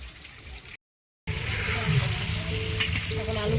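Potatoes frying in rice bran oil in a home kitchen give off a steady, close, dense sizzle that cuts out briefly near the start, then resumes with stirring and bubbling.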